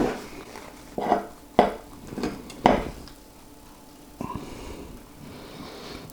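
A long Scotch egg is cut open on a plate with a knife, giving several sharp clinks and scrapes of cutlery against the plate, close and fairly clear, with quiet pauses between strokes and no talking.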